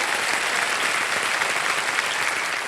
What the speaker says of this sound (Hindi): इनके लिए भी एक बार जोरदार तालियां बज जाए